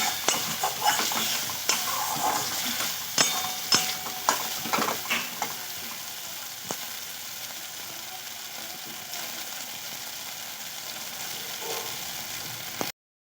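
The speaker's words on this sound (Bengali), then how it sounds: "মশলা খুব ভালো করে কষিয়ে নিয়েছি।" Masala being stirred and fried in oil for a whole onion curry, with a spoon scraping the pan in repeated strokes over a steady sizzle, close and moderately loud, no talk.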